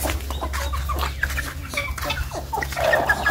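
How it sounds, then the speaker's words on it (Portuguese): Brooding hens cluck close by on a farm in the morning, giving soft, irregular clucks and short calls over a low steady hum. A louder call rises near the end. "essas galinhas é uma graça"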